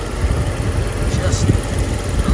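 A 1993 Mercedes-Benz 500SEL with 29k miles idles smoothly at a steady low rumble close by, with a voice talking over the engine.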